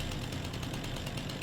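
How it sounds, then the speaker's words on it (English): A chainsaw in the Farming Simulator 25 video game, running steadily at close range as it powers up, producing a continuous broadband engine drone with no pauses. "Chainsaw power enabled."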